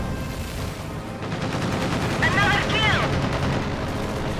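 Katyusha rocket artillery firing in the strategy game Company of Heroes 2: a loud, dense battle din of rapid gunfire and blasts, with a rising, whistling rocket screech cutting through around the middle.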